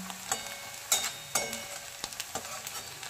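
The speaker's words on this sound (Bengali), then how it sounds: "পেঁয়াজটা আধ ভাজা হয়ে এসছে। দুটো মাঝারি সাইজের পেঁয়াজ ছিল বন্ধুরা।" Two medium onions fry in a pan for fish chops, a soft continuous sizzle punctuated by several sharp scraping stirs and clinks of the spatula, close and fairly quiet.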